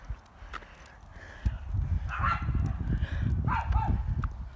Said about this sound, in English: Is that another bark I hear?